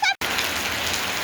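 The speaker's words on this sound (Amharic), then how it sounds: "ዝናቡ እንደቀጠለ ነው ቤተሰብ።" Steady rain falling on a surface during a rainy Sunday at home, a dense, even hiss that runs on without a break after a very short gap at the start.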